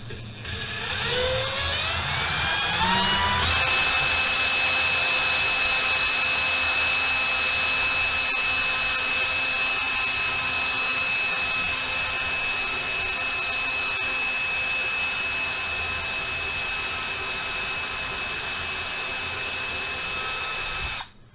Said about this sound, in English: This drill bit is not the sharpest drill bit.